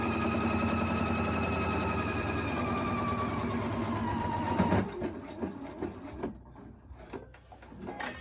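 A sewing machine stitches around the edge of a fabric face mask, humming steadily at speed for several seconds, then stopping and giving way to short clicks and handling sounds.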